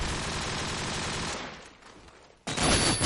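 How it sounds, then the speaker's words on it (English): Dense, sustained gunfire rattles through an esports shooter match, a loud continuous fusillade that thins briefly before bursting back in hard near the end. "Bullets flying around."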